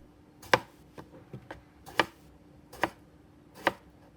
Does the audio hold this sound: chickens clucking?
no